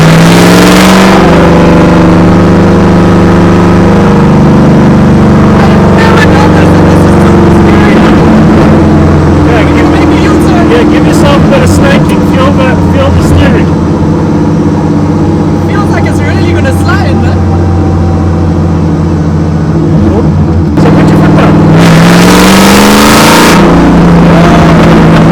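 A V8 drift car accelerates hard in a drag race against a 500 hp car, its engine roaring loudly and rising through the gears with a sharp shift near the end, heard from inside the cabin.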